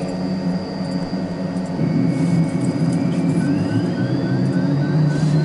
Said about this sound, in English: we're starting the engine up in the air